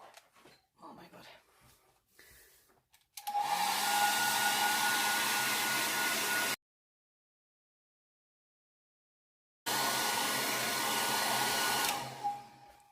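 Hair dryer blowing on alcohol transfer artwork, a steady close whooshing roar that runs for a few seconds, cuts off, then starts again, with someone speaking briefly before it begins.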